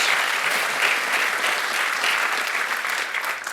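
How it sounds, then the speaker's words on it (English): Steady, full applause from a convocation audience at a college fall gathering, a dense wash of clapping holding for several seconds without letting up. "give yourselves a round of applause for the magic that you've made for our students"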